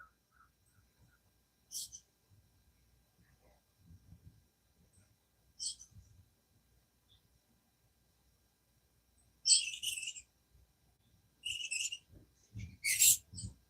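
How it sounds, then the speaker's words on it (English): Birds sing outdoors at dawn in a quiet setting, a few isolated bright chirps early on, then a louder cluster of high calls near the end over faint low noise. "Outdoors, all I hear is the birds."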